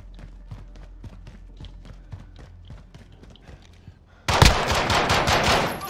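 Pistol fire in the video game Call of Duty Modern Warfare: a run of evenly spaced, crisp shots, then a sudden louder burst of rapid, dense gunfire with clattering effects close up.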